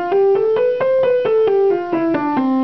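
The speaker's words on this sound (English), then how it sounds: "A major scale sounds like this." A major scale is played as a run of about a dozen clear, evenly spaced sustained notes that climb and then descend, played alone at moderate loudness.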